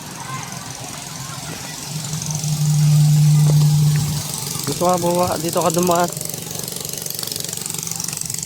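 A motorcycle engine hums steadily nearby at a resort swimming pool and briefly revs up, with people talking over it throughout.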